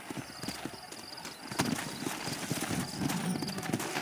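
Horse hooves clip-clop steadily in Red Dead Redemption's New Austin, a rhythmic run of close, moderately loud hoofbeats with a brief whinny and faint ambient game sound.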